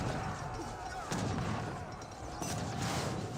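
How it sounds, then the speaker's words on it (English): Heavy cannon artillery in an Age of Empires 3 battle fires in repeated booming blasts, with broad crashing bursts near 1.1 and 2.4 seconds over a continuous din of gunfire. "Heavy cannon still firing waves."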